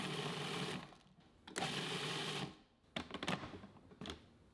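A food processor grinds hot chili peppers in short bursts, a close whirring roar that runs for about a second at a time with brief pauses between, and a few choppy pulses at the end.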